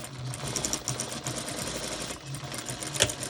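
Sewing machine stitching a fabric face mask seam at a quarter-inch allowance, starting with a short back tack, then a steady close whirring run with brief pauses and no speech.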